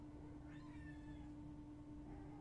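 Cat giving a single drawn-out meow, faint and somewhat distant over a steady background hum.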